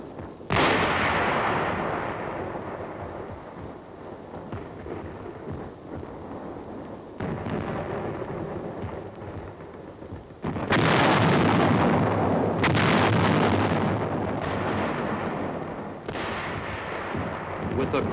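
A continuous heavy mortar bombardment of 4.2 inch shells in a creeping barrage on a Korean War hill, loud rolling booms and blasts overlapping into a sustained roar that swells louder partway through.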